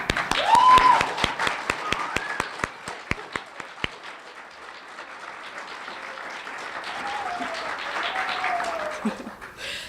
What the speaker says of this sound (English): I would just like to give them a round of applause